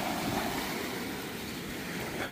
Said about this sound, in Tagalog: Mukhang malakas ang alon, no? Ayun ang alon, no?